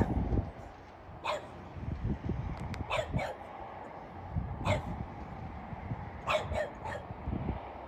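Dogs bark outdoors at dusk in the Okanagan, a handful of sharp single and doubled barks scattered irregularly at a moderate distance over low rumbling background noise, with no talking.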